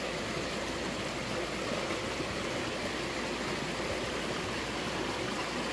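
Steady broadband rush of the Ayaas River in Tayabas, Quezon, Philippines, a stream fed by Mount Banahaw water flowing over large boulders, continuous and even, close by, with no voices over it.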